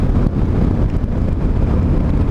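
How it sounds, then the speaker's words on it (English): Steady, loud wind buffeting the microphone, a dense low rumble that never lets up, with no voices. "But it's windy and cold."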